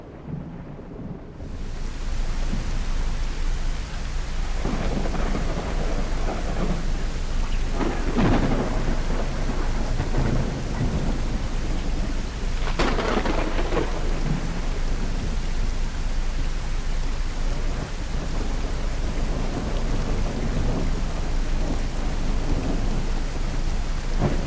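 A heavy thunderstorm rolls over the sea in Professional Ship Simulator during a rescue-vessel mission, with steady loud rain hiss and two deep rumbling thunder cracks breaking through the downpour.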